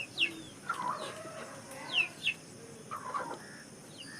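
Several chickens cluck and squawk in short, scattered bursts, fairly close but soft, over a quiet background.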